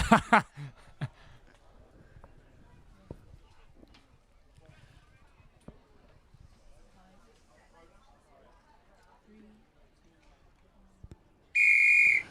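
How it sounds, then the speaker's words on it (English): A crowd murmurs quietly for several seconds, then a loud, sustained referee's final whistle blast ends the match. "And there goes the final whistle."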